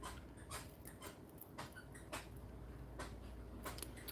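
A pit bull mix dog pants softly in rhythmic breaths close by, faint against a quiet indoor background with light ticking and no speech.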